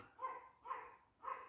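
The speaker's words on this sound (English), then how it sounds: "You're going to have to excuse the dogs barking." Three faint, evenly spaced dog barks, each short and sharp, coming from some distance with quiet gaps between them.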